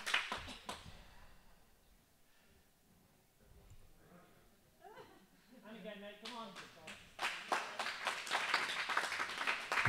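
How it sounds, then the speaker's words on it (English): Crowd at a squash match applauding in bursts, with a brief clatter at the start and a swelling wave of clapping near the end, while a commentator talks over the quieter middle. "The crowd urging Nate on"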